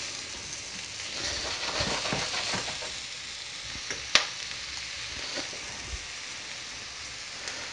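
Mushrooms cooking down in a pan for beef stroganoff give a steady close sizzle and crackle, with one sharp tap near the middle and a few small clicks after it.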